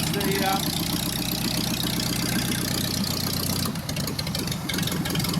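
A warm vintage engine with a magneto idles low and steady, a continuous mid-range rumble throughout, with a shift in texture near the end.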